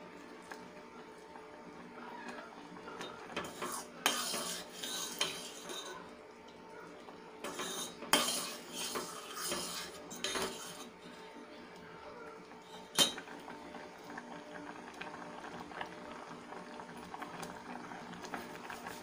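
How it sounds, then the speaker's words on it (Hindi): Vermicelli kheer being ladled into a serving bowl, quiet scraping and clinking of a metal spoon against the pot and bowl in irregular bursts, with a few sharper knocks. "अब मैं इसे एक सर्विंग बाउल में सर्व करूंगी।"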